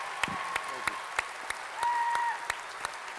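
Audience applause for actor Chazz Palminteri at a season launch event in Cleveland, a steady patter of clapping with sharp individual claps standing out and a brief voice rising over it.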